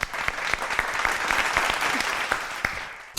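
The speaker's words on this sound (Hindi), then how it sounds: "मोरू के लिए तालियां।" Audience applause for the beatboxer Mooroo on a comedy show, dense steady clapping with a few sharper claps standing out, fairly loud and continuous throughout.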